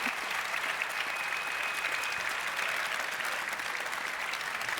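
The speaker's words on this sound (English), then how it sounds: "please give one round of applause for our wonderful panelists and hosts." Audience at a talk on Assassin's Creed applauding the panelists and hosts, a brief, even burst of many hands clapping at moderate distance, holding steady without voices.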